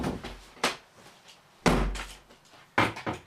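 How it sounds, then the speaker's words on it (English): Door banging shut repeatedly in a room: three loud, sharp thuds spaced about a second apart, each with a short rattling decay, close by and without speech. "because that door's annoying me"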